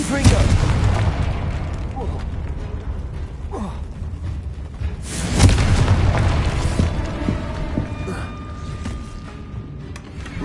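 Confringo spell blasts in the Hogwarts Legacy video game land as deep booming explosions with creaking, crumbling debris, two strong hits spaced apart over a rumbling ambient bed.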